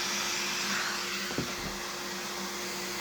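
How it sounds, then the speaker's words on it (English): A blower used while sanding a photocarve gives a steady, moderately loud whooshing drone throughout, with a faint brief bump partway through. "The blower."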